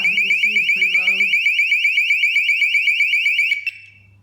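Motion-sensor bike and garage alarm blaring close by, a piercing rapidly pulsing electronic tone that runs for several seconds before cutting off abruptly, with a brief voice near the start.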